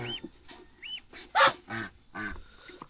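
A domestic goose gives a series of short calls at moderate distance, with one louder, raspy honk in the middle among softer chirps and squeaks.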